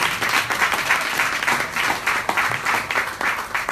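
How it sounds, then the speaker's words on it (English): Audience applause for three women at a presentation, a loud, close burst of many people clapping, dense and continuous with a slightly uneven rhythm throughout. "Can we just give these three ladies a round of applause?"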